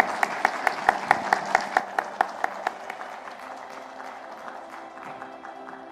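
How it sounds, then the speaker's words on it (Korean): A church congregation at a Sunday service applauds in an even, rhythmic beat of sharp claps that soon fades into a low murmur of room noise. "뜨거운 박수로 맞아주시기 바라며"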